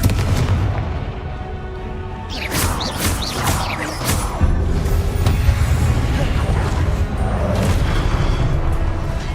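Confringo blasting spell explosions in the video game Hogwarts Legacy, loud booming blasts that land in quick succession over a dense, rumbling battle backdrop.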